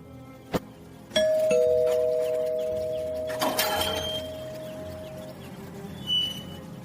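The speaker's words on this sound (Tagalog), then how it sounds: "Sige na, mag-doorbell ka na." A doorbell rings once with a sustained two-tone ding-dong chime in a house, preceded by a sharp knock-like tap and followed by a brief clatter, no talking.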